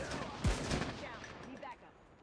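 Call of Duty: Mobile gunfire: a sharp shot cracks out near the half-second mark, followed by scattered in-game noise and trailing echoes, brief and fairly faint overall.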